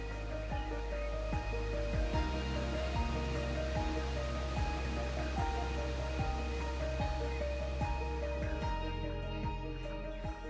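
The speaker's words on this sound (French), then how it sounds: "Au pied de la cascade, l'air a le goût de forêt et de pluie" A waterfall in a forest in India, heard as a steady, loud, broadband rush of falling water that stays constant throughout, with a sustained musical drone and regular low thumps layered over it.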